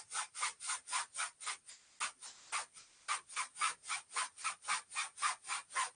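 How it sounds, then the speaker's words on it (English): A cloth rubbed back and forth underneath a bare foot in rapid, regular strokes, each stroke a soft swishing scrape, close and fairly quiet, about three strokes per second with one brief pause. "you put it underneath your foot, stretch your leg out, and just very gently start to rub"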